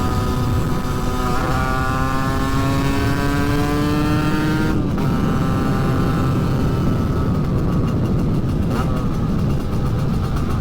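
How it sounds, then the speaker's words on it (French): A moped fitted with a Doppler Vortex engine and a 16 mm carburetor, running rich just after break-in, revs loudly and climbs in pitch, drops off sharply, then keeps buzzing at a steady idle close by. "Pourtant je roule comme ça, en carbu de 16."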